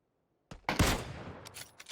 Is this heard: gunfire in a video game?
yes